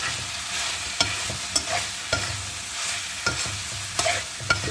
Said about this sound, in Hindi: अब मैं इसमें चिकन डाल देने लगी हूँ और जो शिमला मिर्च थी वो डाल देने लगी हूँ। इसको अच्छी तरह मिक्स करने लगी हूँ।